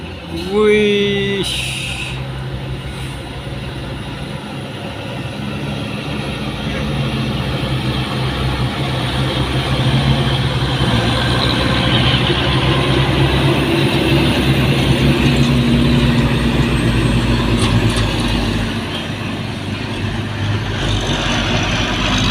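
An empty trailer truck labors on an uphill road, its low engine drone steady and rising in strength over the clip, with a voice speaking over it near the start.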